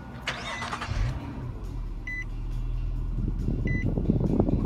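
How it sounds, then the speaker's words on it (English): A 2012 Nissan Maxima engine starts by remote start, first two short electronic chirps over faint background, then the engine catches and idles with a steady, rising mid-pitched rumble close by. "To remote start the car, you hit the lock three times, one, two, three, and that will remote start the car."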